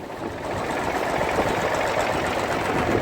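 A David Brown 885 tractor engine running soon after a cold start, a steady, even diesel clatter held at a constant level throughout, close by and with no talk over it.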